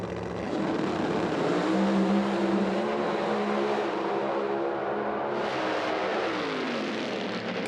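Loud engine roar from nitro drag race cars at an IHRA Outlaw Nitro Series event, including a Corvette, fills the air, a steady high-powered drone that rises and shifts pitch as they rev, with no talking.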